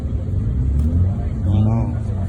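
A Ford F-150 truck engine rumbles and revs at a car meet, a steady low drone running beneath loud nearby talking for the whole stretch.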